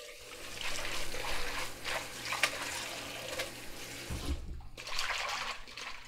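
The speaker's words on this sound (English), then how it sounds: "Running potable water." Running tap water rinsing produce during food preparation, a steady hiss of flowing water with splashing surges, close and moderately loud.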